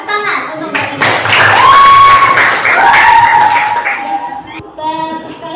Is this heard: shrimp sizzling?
no